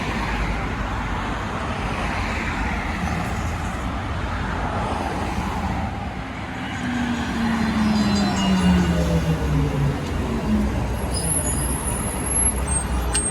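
A bus pulls up to a stop on a busy road, its engine rumbling nearby over steady traffic noise, with a falling brake tone as it slows and a sharp hiss of air brakes near the end.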